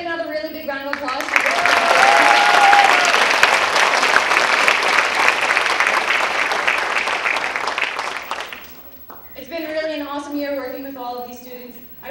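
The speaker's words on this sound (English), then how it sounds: "We get another really big round of applause." Loud, dense applause from a school concert audience swells for several seconds and fades out, with talking over the start and again after the clapping dies away.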